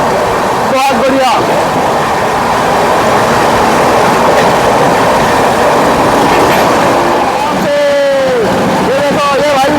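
The Odisha Sampark Kranti train runs fast, with loud continuous rail rumble and clickety-clack close by, brief squeals and horn-like tones at the start and near the end, and people talking over it.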